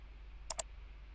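Two quick, crisp mouse clicks about a tenth of a second apart, made while placing anchor points with the pen tool in Adobe Illustrator, close and clear over a faint low hum with no talk.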